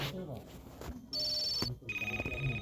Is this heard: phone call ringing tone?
yes